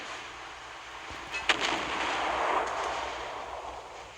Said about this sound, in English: I don't think the secondary is actually doing much. So we don't really need to use those, but I'm going to keep them firing.